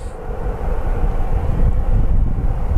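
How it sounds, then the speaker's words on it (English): A Boeing E-3 Sentry with smoky engines passes overhead, its jet engines giving a steady, loud, broad roar that holds throughout. "It's got to be the E3 Sentry."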